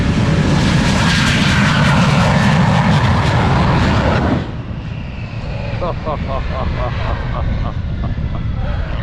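Loud stunt plane engine roars past at close range at an airshow, then drops to a lower, more distant drone with a sputtering rhythmic pulse.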